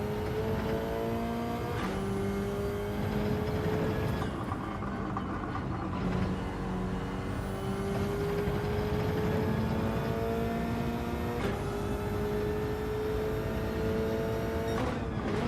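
A Renault race car in Gran Turismo 7 drones on continuously at high revs, its engine pitch climbing and dropping sharply at each gear change, steady and close with no talk.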